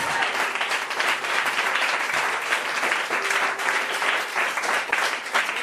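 Church congregation applauding steadily through a preaching service at Yopougon, a dense, sustained wash of clapping from many hands filling the room, loud and continuous without pause.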